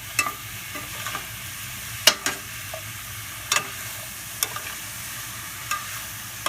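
Chicken and vegetables stir-fry in oil, a soft steady sizzle broken by sharp scraping and tapping strokes of a utensil against the pan at irregular intervals, no one talking.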